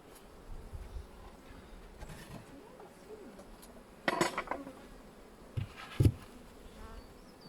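Bees hum steadily around an open hive outdoors, a continuous low buzz with a few louder clunks of hive parts being handled.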